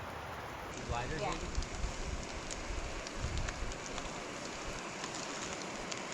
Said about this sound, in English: has started raining on us right when I was making my dinner.